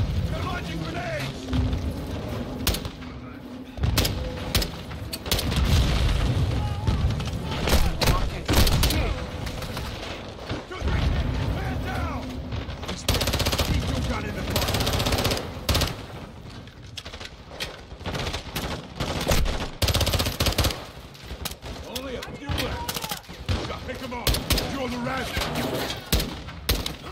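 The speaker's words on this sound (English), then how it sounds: "They're launching grenades!" Call of Duty firefight with dense bursts of automatic gunfire and heavy grenade blasts booming in irregular clusters, loud and chaotic, with shouting voices mixed throughout.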